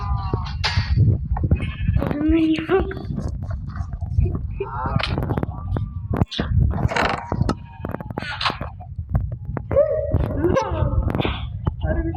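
Minecraft Skyblock sheep bleating repeatedly in short wavering calls, mixed with game sounds and steady chatter from players talking over the top throughout.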